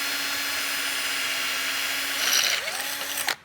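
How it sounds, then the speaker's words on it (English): A power drill bores out a metal bracket on an Eclipse GSX, holding a steady whine that then slows, with a brief burst and a sharp stop near the end; no talking. "Flip this around and we'll drill out the bracket too."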